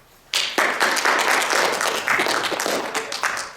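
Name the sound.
audience applause for scholarship students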